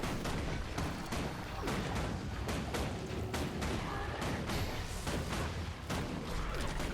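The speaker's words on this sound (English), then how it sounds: "And fire the main cannon." Main cannon firing in Guild Wars 2, a dense, continuous barrage of rapid booming shots and blasts that fills the whole stretch with heavy, rumbling impacts and no talk.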